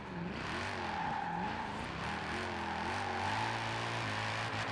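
Car drifting sideways in Forza Horizon 4, a steady engine note rising and falling with revs alongside a continuous tire squeal, loud and close, no talking.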